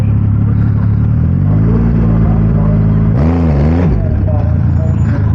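A Triumph Rocket 3 motorcycle launches at a dragstrip from about 2,000 RPM, its loud steady engine drone rising and dipping in pitch as it bogs slightly, with a brief sharp surge partway through, all close and continuous.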